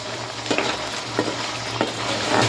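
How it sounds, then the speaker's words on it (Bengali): Fish pieces slid slowly into a pan of simmering spice masala, a continuous close sizzle and frying hiss with a few soft stirring scrapes, no talking. "এই যে কষিয়ে রাখছি মাছগুলো আস্তে আস্তে দিয়ে দিচ্ছি"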